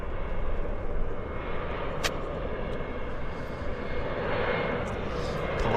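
Airliner on approach to runway 08 left at Vancouver Airport, a steady loud engine roar with a brief sharp click partway through, and faint background voices.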